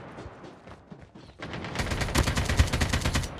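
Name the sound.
sniper rifle gunfire in Call of Duty video game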